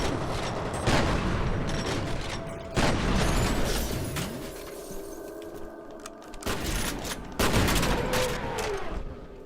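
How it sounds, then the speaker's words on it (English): Gunfire and explosions in the shooter F.E.A.R. on Xbox 360: repeated loud bursts of rapid shots and heavy blasts separated by brief lulls of rumbling and ringing, with almost no talk. "That guy shot me."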